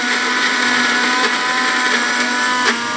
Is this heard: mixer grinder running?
yes